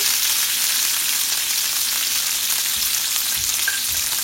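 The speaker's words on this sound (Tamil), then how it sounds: "ஆயில் சுட்டுட்டு மிச்ச வெங்காயத்தை போடுறேன்." Onions dropped into hot oil for sizzling chilli chicken keep up a loud, close, continuous frying sizzle with a steady crackle. A few faint stirring knocks come near the end, and no one talks.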